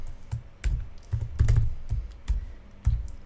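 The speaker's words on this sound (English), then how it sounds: "So if I type this print statement" Typing a print statement on a computer keyboard, a close series of distinct clacking keystrokes in uneven rhythm, with no talking.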